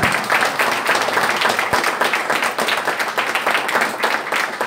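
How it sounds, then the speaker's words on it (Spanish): An audience applauds in a crowd at a community cinema closing event, dense, sustained clapping at a steady level, close and loud, with no voices over it. "Yo les pediría un aplauso para todos ellos"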